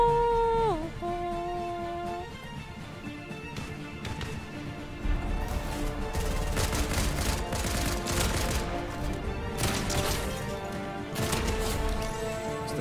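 Rapid bursts of a flash gun firing in a fast-paced shooter video game, loud and dense, with repeated volleys clustering through the latter half over a busy game soundtrack.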